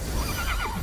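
A horse in the video game Immortals Fenyx Rising gives a short, close neigh over faint hoof clip-clops, a brief whinny standing alone without talk.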